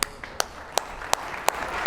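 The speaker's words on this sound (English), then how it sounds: "Please give a round of applause to John Mayer as he joins us on the stage." A handful of separate hand claps at an awards ceremony, sharp and spaced out over a soft background murmur, like the start of applause from a small crowd.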